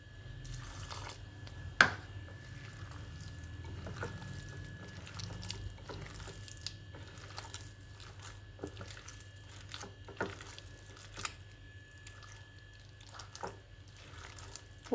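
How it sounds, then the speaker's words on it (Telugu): Water trickles and splashes as it is poured into a rice flour and raw banana batter in a kitchen, with a steady running-water sound and a few faint clinks. "ఇప్పుడు ఇందులో కొంచెం వాటర్ కలుపుదాం."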